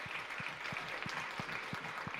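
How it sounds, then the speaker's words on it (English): A school assembly audience applauds in a dense, steady wash of clapping that fills the hall, with a soft rhythmic low thump repeating underneath. "But if we're smiling and giving out rounds of applause, how about a huge one for your principal, Dr. Walsh"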